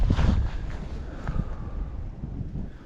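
Strong gusty wind at a fishing lake buffets the microphone with a steady low roar and rumble, loud throughout, with no voices.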